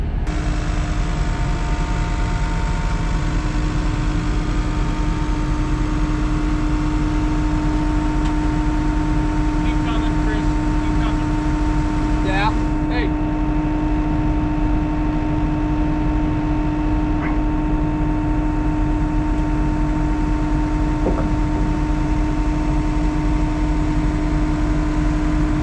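Farm machines run steadily while a mower is lifted onto a trailer, a continuous engine drone with a strong low hum and steady tonal whine throughout, and a few faint clanks around the middle.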